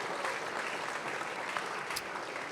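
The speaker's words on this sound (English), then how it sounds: "let's give all these alum and Lauren and all the people that brought the Buckley Institute together a round of applause" Applause at a Buckley Institute dinner for alumni and organizers; a large room of steady, dense clapping, fairly soft and continuous from start to end.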